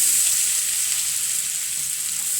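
Grated coconut roasting in a hot pan for pavakka theeyal, giving a steady, hissing high sizzle that stays even and close throughout, with no voices.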